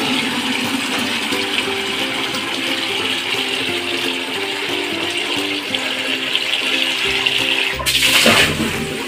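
Tap water pours steadily into a bucket indoors, a continuous rushing splash that holds level, then briefly turns louder and more churning near the end.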